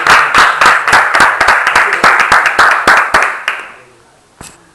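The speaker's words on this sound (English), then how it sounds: "Let's clap for them." An audience claps in distinct, fairly loud beats at a near-regular rhythm, then fades out, followed after a pause by one last lone clap.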